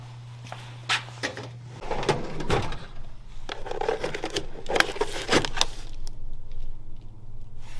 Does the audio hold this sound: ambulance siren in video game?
no